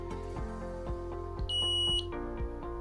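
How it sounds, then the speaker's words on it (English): A single high electronic beep sounds briefly from a patch's buzzer on successful pairing, standing out over a steady low hum and faint rhythmic background tones. "the buzzer will beep once"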